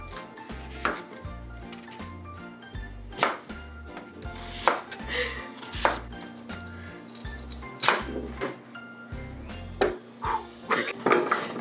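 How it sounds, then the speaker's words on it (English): A knife chops sweet potatoes into chunks on a cutting board, a series of firm, close, regular thuds with clicks and a light clatter of kitchenware in between, with no talking. "we're going to cut up our sweet potatoes into 1-inch blocks"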